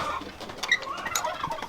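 A broody hen sitting on duck eggs flaps and scuffles as she tries to fly out, with a few brief clucks and rustling wing beats up close for under two seconds.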